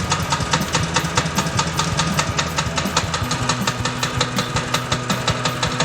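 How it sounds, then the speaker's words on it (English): A 36-inch petrol power trowel engine runs after being pull-started, chugging with a rapid, regular knocking pulse at a steady idle, close and fairly loud with no talk. "Once it's running, let the engine warm up for a minute or 2 before working."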